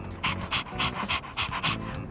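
A dog pants in rhythmic bursts, about seven quick, breathy huffs over steady background game music, in the video game Persona 3 Reload on Xbox Series X.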